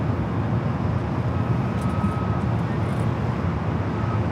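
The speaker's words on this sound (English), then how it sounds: "Looks like the Dreamliner heading far out to the east" A Boeing 787 Dreamliner at Los Angeles International Airport, heard as a continuous, loud, even engine rumble with a faint whine riding on top, steady throughout with nobody speaking.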